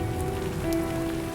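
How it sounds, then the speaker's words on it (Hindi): Steady, dense rain pours down in a continuous hiss, close and fairly loud, with no voices. "देखते देखते बारिश की मोटी धारें बरसने लगी।"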